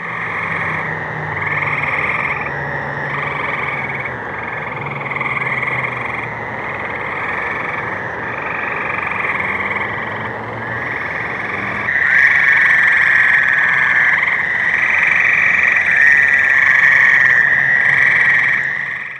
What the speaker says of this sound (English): Some of the ripples in the water are frogs and toads in the mating dance.